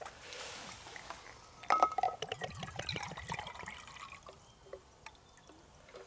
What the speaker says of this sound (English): Actually, we'll get some water in this cup first.